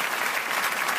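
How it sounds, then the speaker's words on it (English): A comedy-show audience claps loudly and densely, a brief, continuous burst of applause filling the room. "Can I have some cheap applause, please?"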